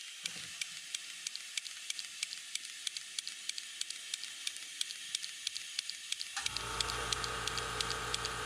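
Spray gun stippling very thin custom paint with the nozzle cap removed, the trigger worked in rapid ticking bursts over a steady hiss that swells into a louder, fuller rush near the end; no talking.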